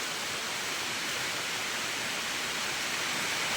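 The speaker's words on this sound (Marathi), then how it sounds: "पाऊसच नाही तर पत्राचा आवाज पण येत असं वरून पत्राचा शेडमध्ये" Dense, even rain drums on a tin sheet shed roof, a continuous loud hiss with no breaks or voices.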